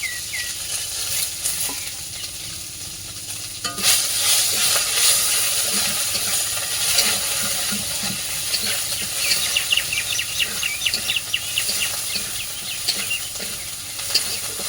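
Onion, garlic, mustard and ginger paste with bay leaf sizzle steadily in hot oil over a strongly burning stove, a loud continuous frying hiss with stirring scrapes, close and alone without talk.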